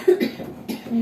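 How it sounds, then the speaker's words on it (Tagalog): A woman coughs a few times in quick, close bursts, short harsh hacks separated by brief pauses, with no talking over them. "Yan, ubo-ubo ni ate."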